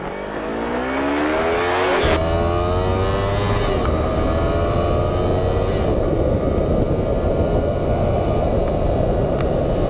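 A 2016 Yamaha R3 motorcycle pulls away from an intersection, its engine revving up through rising gear sweeps with a shift around two seconds, loud and close over steady road and wind noise.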